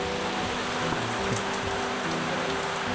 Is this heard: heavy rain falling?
yes